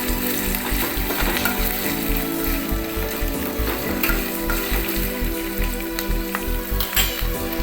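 Green chillies, onions, curry leaves and ginger-garlic paste fry for a tomato moong dal, with a loud, continuous close sizzle and stirring, and rhythmic background music playing underneath.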